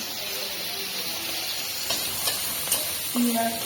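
Pangas bhola fish frying in a pan gives a steady, close sizzle throughout, with a few brief clinks and stirring scrapes near the end.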